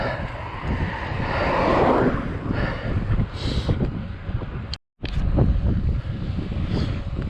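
Steady, loud wind buffeting the microphone outdoors as a cyclist rides into a headwind, a constant roaring rush that cuts out briefly before resuming.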